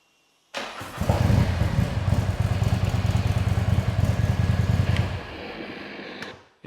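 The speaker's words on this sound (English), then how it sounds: "we'll see how fast this larger build actually cranks up now" A Harley-Davidson big-build motorcycle fitted with a new lithium battery cranks briefly and fires up, the engine settling into a loud, rumbling idle that runs for several seconds before shutting off, with no talking.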